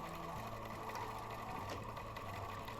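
A sewing machine stitches fabric around a curve toward a bulky seam, running steadily and continuously at close range with an even mechanical hum and fast needle rhythm throughout, no talking.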